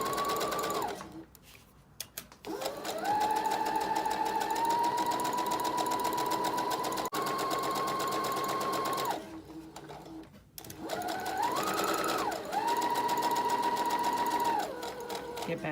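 A sewing machine stitches around the edges of a felt-style candy corn shape for a Halloween treat bag, running in steady whirring bursts with short pauses to pivot the fabric, close and loud.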